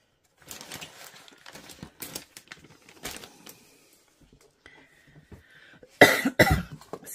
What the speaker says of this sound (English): I'm still suffering with this cough